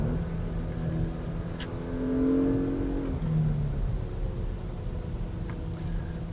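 A 2021 Porsche Macan Turbo SUV with 434 hp and a PDK transmission accelerating in Sport Plus, its engine tone rising and dropping through smooth upshifts, heard from inside the cabin.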